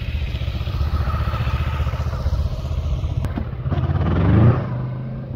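A Kawasaki Vulcan S motorcycle on a ride, its engine giving a steady, loud, close drone with a brief rise in revs and some clatter near the end.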